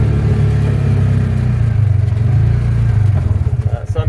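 A 2020 Polaris Ranger engine labours up a hill on stock tires, giving a loud, steady mid-pitched hum with a slight throb toward the end while a person talks over it.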